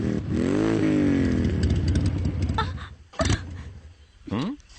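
A motorcycle engine revs and then sputters unevenly as it runs out of petrol, coughing and dying away in a few loud, ragged bursts up close.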